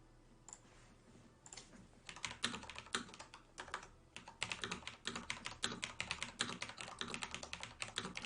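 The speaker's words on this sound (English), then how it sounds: "Just typing." Fingers type on a computer keyboard in quick, irregular bursts of crisp clicks and key taps, fairly close but quiet, over faint background hum.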